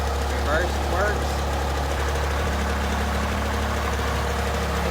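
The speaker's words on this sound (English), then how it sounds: "it sounds like a pretty strong running little tractor." A Massey Ferguson 308 loader tractor, left sitting for 14 years, runs steadily at a low, throbbing idle with a constant engine drone close by; faint voices are briefly heard over it.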